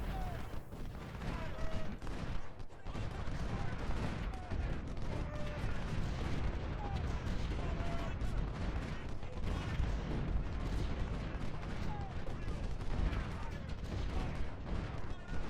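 In a Civil War strategy game, Napoleon cannons fire exploding shell during a battle at Shiloh, a dense, continuous roar of booming artillery and crackling gunfire that never lets up.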